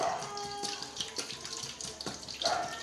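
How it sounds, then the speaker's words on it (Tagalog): Water pours steadily into a siomai steamer as four liters are added for boiling, a continuous splashing gush with small bursts, fairly close, with no talk over it. "Una po natin gagawin, lalagay po natin ang tubig"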